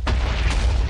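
An explosion in Minecraft 1.8 erupts as one loud, broad boom that fills the whole second, with no talking.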